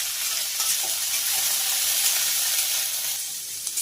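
Pointed gourd peels and green chillies fry in a pan with salt and turmeric, giving a loud, dense, even hiss of sizzling oil that continues without a break and without voices.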